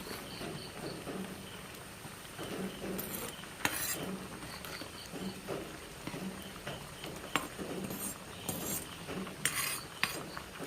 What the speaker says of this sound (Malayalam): നമുക്കൊന്ന് ഇളക്കി ഇട്ട് കൊടുക്കാം